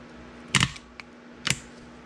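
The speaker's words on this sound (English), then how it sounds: "I'm gonna hook a positive one here, and you'll hear it click." Hydraulic control relay on a 1998 WoodMizer LT40 Super Hydraulic sawmill clicking as power is applied, heard as two sharp close double clicks about a second apart with a tiny tick between, no talk.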